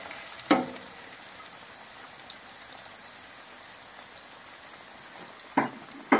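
Ginger, garlic and onion fry in hot oil with whole spices like bay leaf, cardamom and cinnamon, a low steady sizzle with two sharp louder bursts as ingredients hit the pan.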